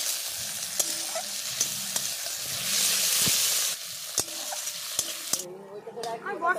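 Chili powder and chopped tomatoes fry in oil over a clay stove, a broad sizzle with sharp stirring clicks and scrapes, swelling to a loud hiss midway before settling, with a faint voice near the end.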